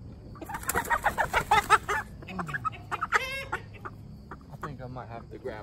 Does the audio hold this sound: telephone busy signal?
no